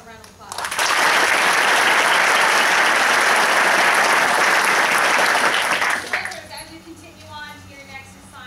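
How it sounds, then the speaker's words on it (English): Loud, sustained applause from a large crowd at a military battalion graduation, a dense wash of clapping lasting several seconds before fading into scattered claps and murmuring. "How about a round of applause?"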